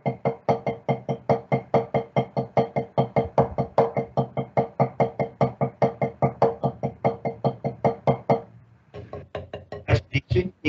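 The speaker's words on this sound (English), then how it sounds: "You can hear the sound of the stick." Drumsticks playing single ratamacue practice strokes: a rapid, even stream of crisp wooden taps, close and clear, pausing briefly before a final burst of accented hits.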